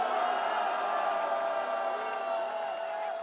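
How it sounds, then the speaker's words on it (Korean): Large outdoor crowd at a political rally in Seoul Plaza applauding and cheering steadily, a dense continuous roar of clapping and shouts that stays loud throughout. "큰 박수와 함성 부탁드리겠습니다"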